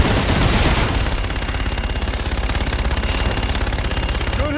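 Gunfire and an artillery strike in the Call of Duty: Infinite Warfare video game, a loud opening blast followed by rapid, rattling automatic fire that continues steadily and close.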